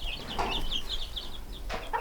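Young Sussex chickens and roosters cluck and squawk in a series of short, bright calls, with a few louder bursts and faint wing flutter over steady outdoor background noise.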